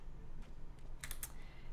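Keys clatter on a computer keyboard during a Dreamlight Valley game stream, a few scattered soft taps then a quick cluster of sharper clicks, close and quiet with no talking.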